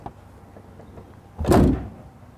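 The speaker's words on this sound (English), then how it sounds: "You want to shut the hood? It's actually pretty simple. You just put it down back into this position" A Mercedes SLR hood is lowered and shut, giving one solid, close thump that stands out after a stretch of quiet low rumble.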